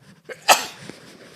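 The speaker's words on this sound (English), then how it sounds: "It's spring and I'm just going to be sneezing for the rest of the semester." A single sharp sneeze from an indoor speaker, a short breathy intake followed by one loud burst and a faint trailing exhale, close and isolated.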